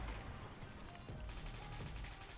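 Blue Dragon gun firing in the XSHOT shooter game, a dense rapid stream of shots blending into a constant loud rattle that runs the whole moment without pause.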